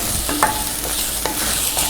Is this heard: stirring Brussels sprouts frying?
yes